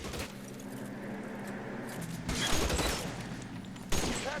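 Gunfire in the L.A. Noire video game, a rattling burst of shots with a rumbling background, louder volleys near the middle and a sharp crack toward the end.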